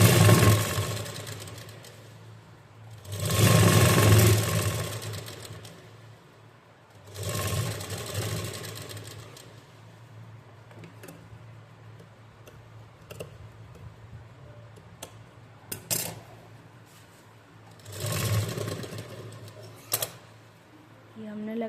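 A sewing machine sews lace onto the sleeves of an umbrella frock in several short, separated bursts over a low steady hum, close by.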